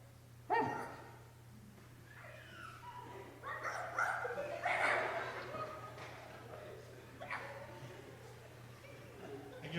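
People in a comedy hypnotist show crowd imitate a yappy chihuahua, giving several short yipping bark sounds and whimpers in a loose cluster, with speech and reverberant room noise around them.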